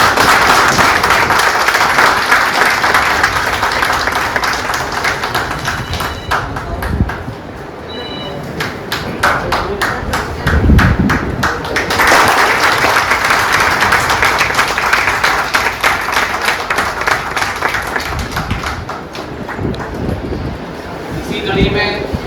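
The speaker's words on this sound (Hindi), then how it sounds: "एक बार जोरदार तालियों से उनका सम्मान करें" Applause from a crowd at a railway office farewell party, a loud dense clapping that fills the room, with voices talking through and around it.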